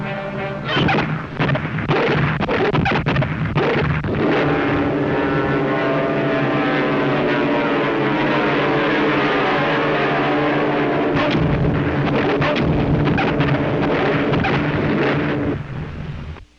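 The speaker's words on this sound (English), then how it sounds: "an entire fleet of Axis submarines was destroyed by American dive bombers" Propeller dive bombers attacking submarines in an old radio drama: a loud, sustained droning roar of aircraft engines fills the scene, punctuated by dull blast thumps near the start and end.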